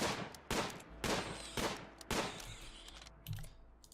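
Gunfire from a Rimworld colony skirmish crackles in several sharp broadband bursts about half a second apart, each decaying into a noisy tail, fairly close and loud with no talk.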